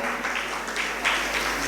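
A crowd applauds steadily throughout a Jain religious discourse on the Padma Purana during a monsoon retreat in Chhipitola, Agra, with a dense, even wash of clapping and no pauses.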